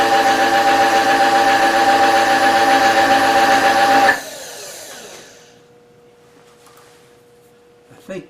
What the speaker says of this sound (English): And drill the clearance hole.